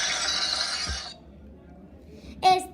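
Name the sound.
pot of paint falling and breaking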